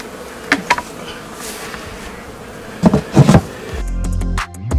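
Honey bees hum around a hive during autumn sugar-syrup feeding, with a steady insect drone broken by a few louder close passes and bursts of buzzing before a low rumbling noise takes over near the end.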